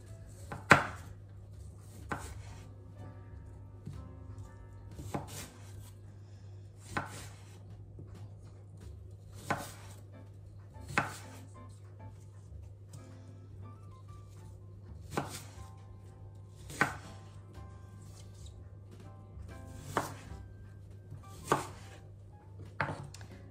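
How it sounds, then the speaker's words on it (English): A knife slicing food thinly on a cutting board makes about a dozen sharp, isolated chops spaced every couple of seconds over a low steady hum, close and fairly quiet. "Now I'll just slice these up better so they are colour."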